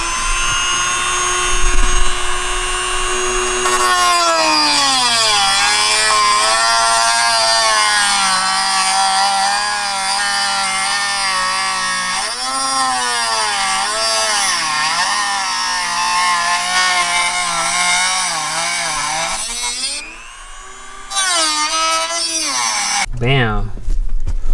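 A power drill boring out a hose to route shifter cables for a Hybrid Racing shifter install, whining loudly and steadily with pitch wavering as the bit bites, then stopping near the end.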